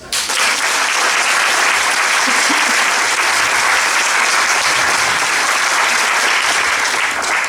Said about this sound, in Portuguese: Para eles um aplauso.